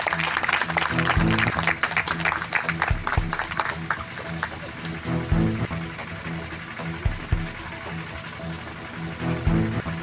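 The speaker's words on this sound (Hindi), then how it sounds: "जोरदार तालियां होनी चाहिए।" An audience at a gathering of local officials, including an ADM and a doctor, bursts into sustained clapping, dense and continuous, with a voice speaking over it.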